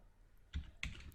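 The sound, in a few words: typing a command on a computer keyboard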